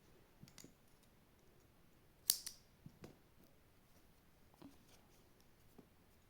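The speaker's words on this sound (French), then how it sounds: "Vous réalisez un double nœud et vous pourrez couper votre nœud quasiment à ras." Scissors snip a crochet yarn knot close up, one crisp clipping click standing out among soft, faint rustles and small handling taps in a quiet setting.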